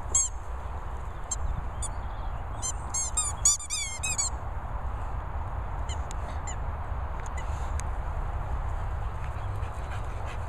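Squeaky dog toy squeaking in quick bursts early on, several short high squeaks bunched together, over steady background noise with no talk.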